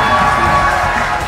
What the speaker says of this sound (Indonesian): Sekali lagi kita tepuk tangan kepada Ibu Ira.